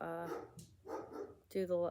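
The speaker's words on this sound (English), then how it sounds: "sorry if you hear my dog barking" Pet dog barking in short, sharp yelps near the end, following stretches of indoor speech that it partly overlaps.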